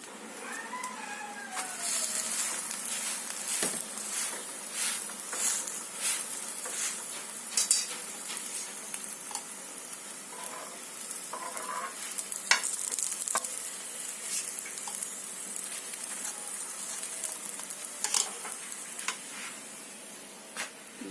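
A radish paratha fries with desi ghee on a griddle, giving a steady close sizzle with scattered clinks and scrapes of a utensil, no talking.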